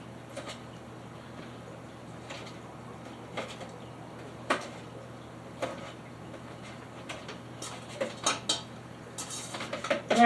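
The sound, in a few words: spoon mixing banana bread batter in a bowl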